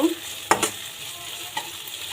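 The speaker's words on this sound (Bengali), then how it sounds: "মরিচ কুচি রসুন কুচি আর আদা কুচি দিয়ে এগুলোকে একটু নেড়ে চেড়ে ভেজে নেব" Chopped chili, garlic and ginger fry in a pan with a soft sizzle, broken by two sharp spatula scrapes, one near the start and a fainter one later; no one talks.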